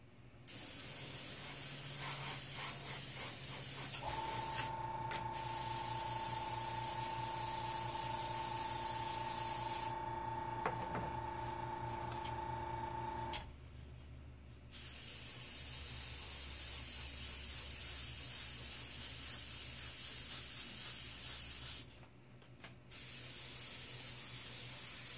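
An airbrush sprays paint over a hand-cut stencil, giving a soft, continuous hiss that stops twice briefly and then resumes, while faint whining tones from the compressor run under the spray for part of the time.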